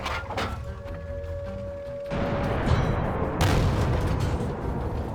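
Tank cannon fire in the World of Tanks video game: a low booming shot with rumbling game ambience, followed by a louder burst of noise as the round strikes and bounces.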